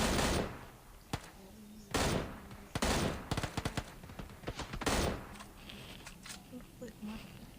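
Gunfire in the video game PUBG: scattered sharp shots and short bursts ring out at moderate distance across several seconds, mixed with clatter and a voice speaking in the background.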